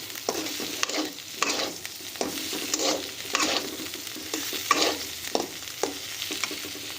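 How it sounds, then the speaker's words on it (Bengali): Potatoes and gima greens fry in a pan with steady sizzling, broken by repeated scraping stirs of a spatula, close and fairly loud, with no voices. "আলুও খুব ভালোভাবে হয়ে গেছে ভাজা, আর গিমে শাকটাও খুব ভালোভাবে ভাজা হয়ে গেছে"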